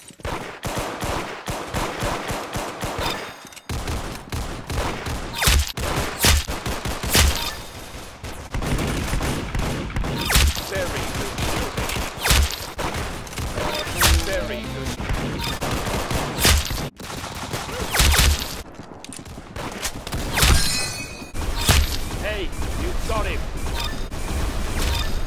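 Rapid bursts of gunfire from the Roblox shooter game Arsenal crack and rattle loudly in quick succession, with brief pauses between volleys, mixed with game effects and players talking.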